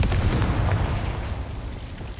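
A Confringo blasting spell goes off in Hogwarts Legacy as a loud, dense burst with a heavy low rumble that fades off over about two seconds, with no talking.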